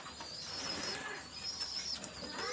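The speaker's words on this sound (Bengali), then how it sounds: "রেড আই চোখের কবুতর।" Soft cooing of red-eyed male pigeons, faint and intermittent against a hissy background with scattered chirps, no voices.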